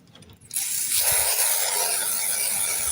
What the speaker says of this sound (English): I'm just going to spray it with some canola